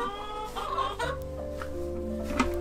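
Chickens cluck in short, close bursts alongside a farm's pigs, with a few overlapping calls over a low steady background hum.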